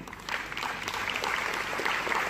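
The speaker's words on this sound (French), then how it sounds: "On peut les applaudir." Applause from an audience at a general meeting of members, moderate and steady, lasting a couple of seconds at a slight distance.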